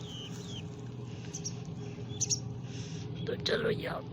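Baby birds give thin, high chirps and tweets in short scattered bursts, fairly faint at first and then a quick cluster near the end, over a low indoor hum.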